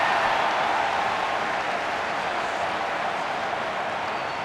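A stadium crowd applauds and cheers in a steady, dense wash of sound during an AFL Evolution 2 football match with Melbourne at the MCG, slowly fading slightly toward the end.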